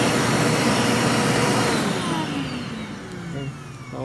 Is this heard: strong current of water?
no